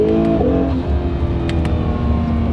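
An Acura NSX with a 7-speed automatic gearbox accelerates hard, its engine note rising steadily with rapid gear changes, a loud, close, continuous drone with faint background noise and no talk.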